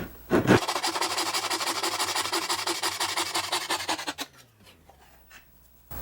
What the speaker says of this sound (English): I'm going to turn the saw and go follow this line here.